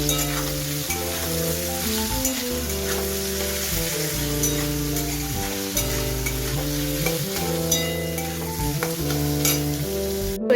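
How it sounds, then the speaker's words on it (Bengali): Onions frying and being stirred in a pan while cooking chicken, a steady loud sizzle with repeated scraping stirs, constant over background music. "এই যে আমার পেঁয়াজটা ভাজা হয়ে গেছে"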